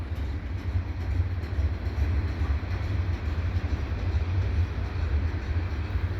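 Freight train rolling past near Turcot, a steady heavy low rumble of rail cars on track, continuous and close with a constant broad roar and no voices.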